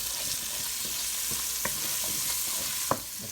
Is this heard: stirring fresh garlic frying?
yes